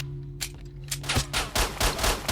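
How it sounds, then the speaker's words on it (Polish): Rapid gunfire in S.T.A.L.K.E.R. Shadow of Chernobyl, a quick string of sharp, fairly loud shots in short bursts, heard alone without talk. "Tam strzelają do mnie, napierdzielają z każdego kierunku świata."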